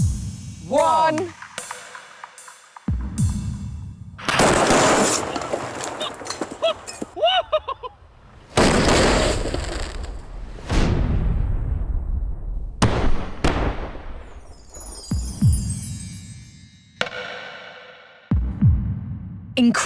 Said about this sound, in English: this explosion will throw the laptops into the air and engulf them with a fireball